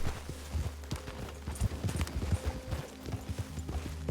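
Horse hooves clip-clop at a relaxed rhythm in Red Dead Redemption 2, fairly quiet and close, over a soft ambient game background.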